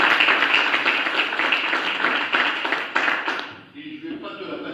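Council members applaud a newly appointed deputy mayor at a municipal council meeting: dense, steady clapping from a room of people that fades out toward the end.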